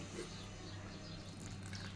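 Water trickles steadily into a bowl of batter for Maharashtrian katvada, a soft continuous pouring that stays close and fairly quiet, with no talking over it.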